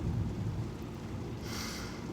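Thunder rumbles low and heavy during rain, a sustained deep roll with a hiss of rainfall, fairly close and with no voices.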